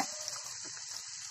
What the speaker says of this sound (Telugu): టాప్ చేసి పెట్టిన కొత్తిమీర కొద్దిగా వేసేసుకుని వేయించుకొని